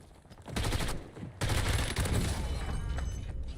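Dense, loud bursts of gunfire from a Black Ops Royale video game match: rapid automatic fire with overlapping shots that builds after a short lull and keeps going almost without a break.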